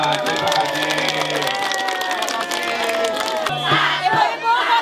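A crowd at a political campaign gathering in the Thousand Islands near Jakarta cheers and shouts loudly, with scattered clapping mixed in and voices calling out over the din.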